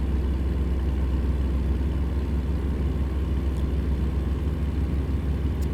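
A truck engine in the driving game American Truck Simulator gives a constant deep rumble with a steady mid-range drone that runs evenly from start to end, with no voices.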